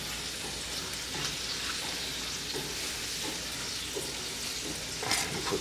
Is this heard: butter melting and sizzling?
yes